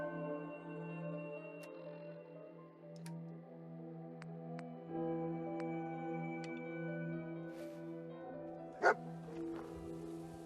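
Dogmeat, the dog companion in Fallout 4, barks a few times over steady game music and ambience, with one sharper, louder yelp near the end.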